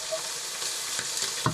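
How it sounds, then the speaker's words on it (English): Steady, dense sizzling of food frying in a pan, close and continuous, with a few small pops near the end. "I don't even know if you're going to be able to hear me over this sizzling"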